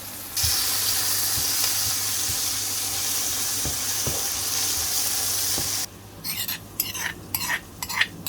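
Onions sizzle steadily in hot oil with salt and fenugreek seeds for a prawn gravy, with occasional stirring taps; near the end the frying gives way to intermittent running water.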